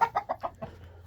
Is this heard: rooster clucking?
yes